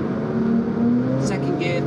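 An Alfa Romeo 4C accelerating in second gear on a German autobahn as its turbo cuts in, a loud steady engine drone rising slightly, with faint whooshing near the end while someone talks over it.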